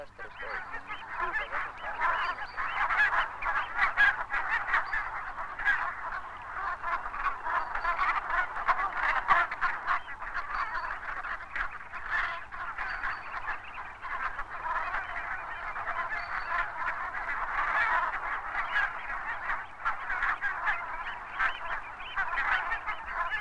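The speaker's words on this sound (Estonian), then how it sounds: "Aulide järel tulevad lagled." A flock of barnacle geese (Branta leucopsis) keeps up dense, continuous honking and yelping calls, many birds overlapping in a steady chorus with no voices.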